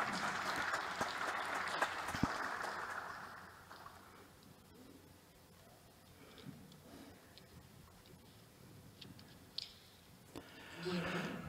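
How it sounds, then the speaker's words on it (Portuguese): Applause from an audience fills the opening seconds, then fades into a quiet room with scattered small noises and faint murmurs. "Portanto, um aplauso para ela."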